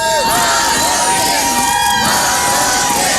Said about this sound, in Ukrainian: А люди кричать молодець